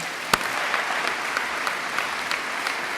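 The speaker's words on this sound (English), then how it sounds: "Let's please give a huge round of applause to the graduating class." A crowd at a graduation ceremony gives the graduating class steady, dense applause that fills the whole stretch, with a few sharper claps popping out near the start.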